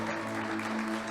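Congregation in church applauding, a short, even wash of many hands clapping, with a steady low instrumental drone running beneath it.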